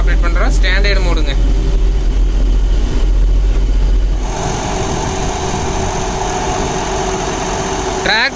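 A John Deere 5075E AC cabin tractor engine runs at 1800 rpm in creeper gear while mulching banana plants, a loud steady diesel drone with strong low rumble and a hum that shifts in tone midway, then continues evenly.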